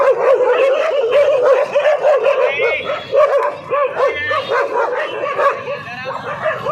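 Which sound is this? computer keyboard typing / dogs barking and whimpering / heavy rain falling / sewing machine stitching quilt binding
dogs barking and whimpering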